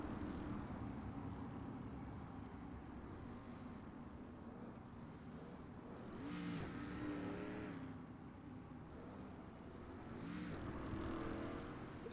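In a racing video game, a field of race cars follows a pace truck out of turn four under caution, their engines giving a faint, steady drone that swells and fades twice.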